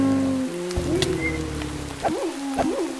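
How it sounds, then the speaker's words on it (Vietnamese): Steady rain hiss in a modded video game, running continuously under sustained in-game musical tones, with no talking. "Mưa rồi."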